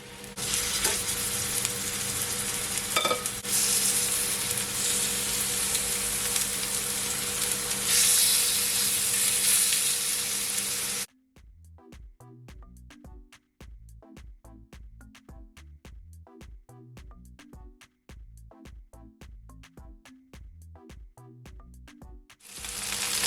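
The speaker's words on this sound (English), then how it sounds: "I'm gonna allow it to fry for at least 3 to 4 minutes on each side" Honey garlic chicken bites fry in a pan with a loud, steady sizzle for about eleven seconds, then a quieter stretch with a regular pulsing pattern takes over until the end.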